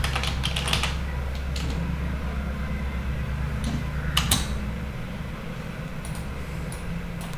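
Computer keyboard typing in quick bursts of close key clicks, separated by short pauses, over a steady low hum.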